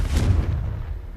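A Confringo blasting spell in the game Hogwarts Legacy goes off as one loud, close, booming explosive burst that rumbles and fades over about a second.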